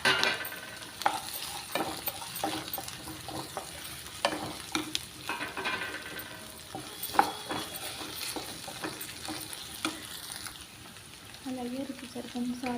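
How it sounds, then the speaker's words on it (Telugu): Taro root pieces and onions sizzle and crackle in hot oil in a pan, with frequent stirring scrapes and clatter throughout and someone talking over the frying. "బాగా ఆయిల్లో వేగనివ్వాలండి చామగడ్డలు"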